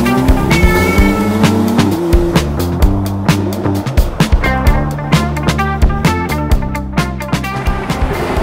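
A Porsche 991 phase 2 Carrera GTS cabriolet being driven, its engine note rising and shifting with rhythmic pulses, loud and close, over a musical backing.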